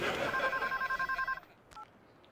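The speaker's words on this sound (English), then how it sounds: "the other phone is ringing" A telephone rings in a short electronic burst of paired tones lasting about a second and a half, then falls quiet, with a fainter brief tone afterward, fairly close and without talk over it.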